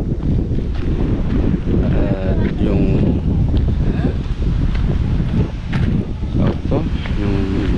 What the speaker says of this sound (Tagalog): panahon medyo mahangin po.